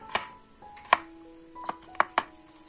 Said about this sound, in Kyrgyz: Баклажандар куурулуп жатканда 4-5 тишче чеснокту майда кылып туурап алабыз.